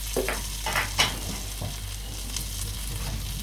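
Oil and margarine sautéing in a pan with a pinch of salt, a steady close hiss broken by a few soft stirring scrapes.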